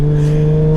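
Toyota Supra with traction control off spinning its rear wheels on a wet garage floor, a loud steady engine drone with strong low harmonics held throughout, no talk.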